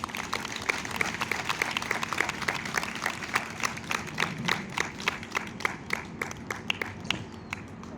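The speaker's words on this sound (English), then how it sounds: "a round of applause again for Dr. Foyer." Applause from a modest audience at a victims and survivors honoring event, fairly quiet with distinct individual claps standing out and thinning toward the end.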